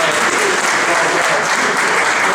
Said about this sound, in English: Man, y'all can clap for that.